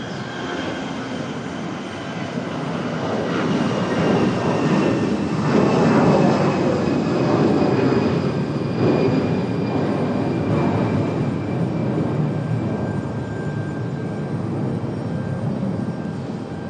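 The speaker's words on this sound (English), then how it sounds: "Nice little Delta A319 departure. Should be a good sounding departure." A Delta Airbus A319 jet departs Raleigh-Durham airport, its engine roar swelling to a loud peak and then easing into a steady, slowly fading rumble with high whining tones.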